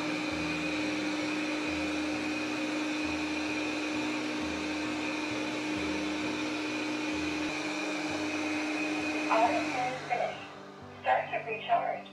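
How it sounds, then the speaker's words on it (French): A Proscenic M8 Pro robot vacuum cleaning along a table edge gives a steady motor whine and airflow hiss that runs continuously, then breaks into short bumps and brushing noises near the end, with someone talking over it. "Alors on peut voir le robot faire correctement le bord de la table."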